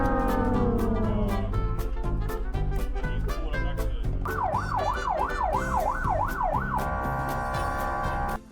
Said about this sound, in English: Apparently, sirens now mean freeze